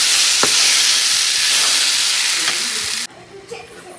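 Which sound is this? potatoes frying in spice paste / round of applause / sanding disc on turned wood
potatoes frying in spice paste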